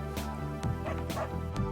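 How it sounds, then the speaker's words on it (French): Dog barking in the video game Always Sometimes Monsters, three or four quick close barks and yips in a row, loud over a low steady hum. "Une seconde, il faut que j'enferme ce chien!"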